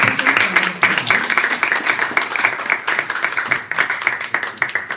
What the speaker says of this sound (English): Please give His Excellency the applause.